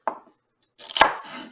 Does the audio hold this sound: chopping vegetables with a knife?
yes